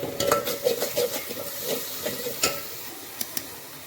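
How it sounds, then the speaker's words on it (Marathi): Turmeric is stirred into ginger garlic paste in a pan for chicken biryani, giving a soft continuous sizzle with repeated scraping strokes of a spoon, close and fairly quiet, with no talking. "आता यामध्ये हळद टाकायची मला मिक्स करून घ्यायचं"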